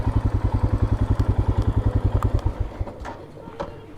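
Motorcycle at an Indian Army camp in Ladakh near the last village, its engine thumping in a loud, steady close-up rhythm before cutting off, leaving faint background sounds.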